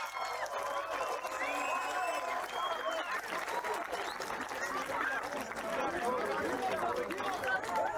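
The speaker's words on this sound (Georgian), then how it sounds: "ხო ძალიან დიდი და მხურვალი აპლოდისმენტები მათ." A boxing crowd at a ringside fight night applauds warmly, a broad rolling wash of clapping mixed with cheers and chatter, while a voice speaks over the crowd at the start.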